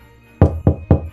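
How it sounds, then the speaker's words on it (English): Four firm knocks on a door, near and loud, a short pause after the first and then three in quick succession, with no voices over them. "Suddenly, there's a knock at the door."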